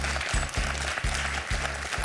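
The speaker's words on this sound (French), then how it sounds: "Pierre applaudit parce que Pierre, il sait bien que Philippe n'était pas très loin des 3 points" Studio audience applause fills a TV quiz show set, a dense steady patter of many hands clapping together with a faint pulsing, no voices standing out.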